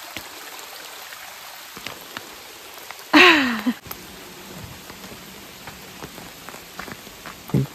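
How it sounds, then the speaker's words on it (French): Steady rain patters down on surfaces all around in Nova Scotia or New Brunswick, Canada, with a brief squeaky voice-like sound cutting through midway. "Il pleut."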